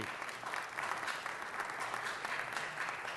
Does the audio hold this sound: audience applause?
yes